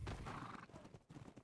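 Horse in the video game ARK Ragnarok gives a close, loud neigh, followed by a few quick clip-clop hoofbeats over soft background sound.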